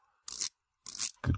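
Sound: watch bezel clicking on fake Omega Planet Ocean

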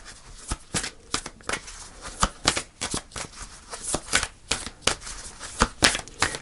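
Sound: shuffling tarot cards

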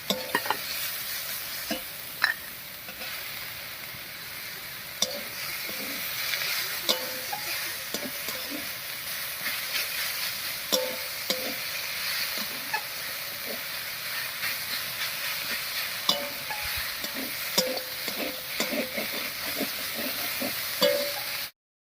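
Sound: stirring fried eggplant into cooked pumpkin greens in pan

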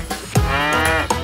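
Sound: cow mooing

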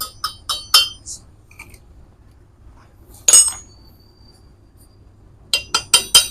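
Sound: chipping hammer knocking slag off a fresh weld

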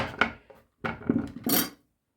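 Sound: grating carrot on a Korean grater

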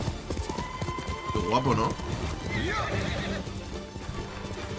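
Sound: horse galloping in a cavalry charge in the video game Ghost of Tsushima

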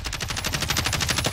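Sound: gunshots in a video game

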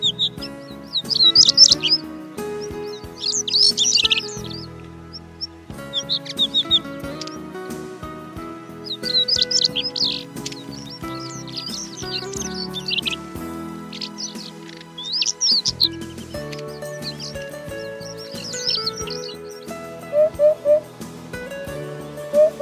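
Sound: European robin singing

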